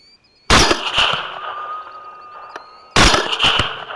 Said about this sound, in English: it gets a quick follow-up shot